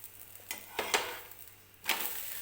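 A thalipeeth flatbread flipped over in a pan, a few scraping strokes of a spatula under the bread and a light slap as it turns, over a soft background sizzle, quiet and close, with no speech.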